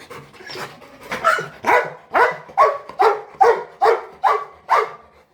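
A dog barks about ten times in a steady rhythm, close and fairly loud, each bark short and sharp with brief gaps.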